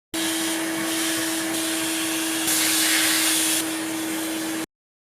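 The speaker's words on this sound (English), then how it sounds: "Then I finished off by vacuuming the dust that was in the lower case" A vacuum cleaner runs steadily while sucking dust from inside the case of a Casio DG-20 digital MIDI guitar, a close, loud whooshing drone with a constant motor whine and a brief surge in the middle before cutting off.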